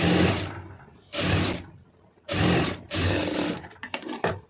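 A sewing machine stitching fabric for an invisible hem runs in three loud, close bursts separated by short pauses, and the clip ends with a few quick clicks and rattles.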